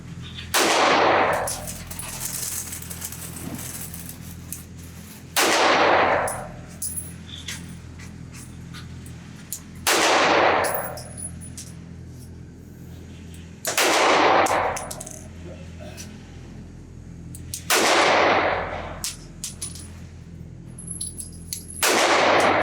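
Sig Sauer P320 Equinox pistol fired at an outdoor range, five sharp single shots spaced a few seconds apart, each loud crack ringing off with a short decay, faint metallic clinks between.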